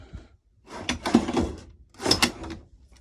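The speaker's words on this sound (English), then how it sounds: "Drawers." Two drawers in a 2012 Palomino Stampede hybrid travel trailer being pulled open and pushed shut, each a short sliding rumble ending in a thunk, close and fairly loud in a quiet interior.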